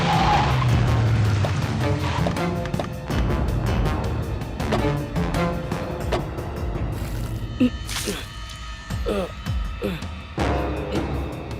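A car skids to a halt with screeching tires amid loud, busy film soundtrack and voices, the squeal rising sharply before the vehicle stops.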